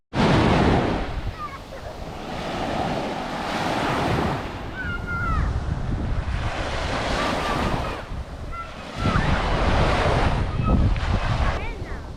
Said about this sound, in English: Milopotos beach, one of the nicest beaches here.